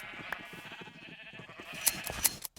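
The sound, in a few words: sheep bleating while being sheared in a video game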